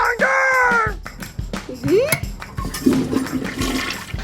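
A toy toilet flushes in a rushing burst of water amid play with Monster Jam toy trucks, with a voice and other speech mixed in over the top.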